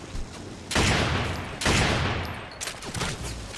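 Gunfire in the video game Lost Planet 2, with loud bursts of rapid shots coming in two or three sustained volleys, close and dense, and no talk over them.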